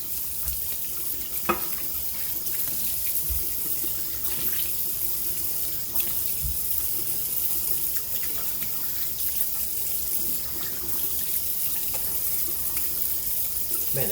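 Cold tap water runs steadily into a sink for rinsing the face after a shave, a continuous hissing splash with occasional small knocks and clinks, no voices present.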